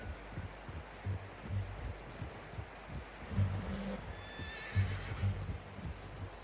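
A horse in Red Dead Redemption 2 gives a short whinny midway, set over soft repeated hoof-like thuds and low rustling ambience, fairly quiet throughout.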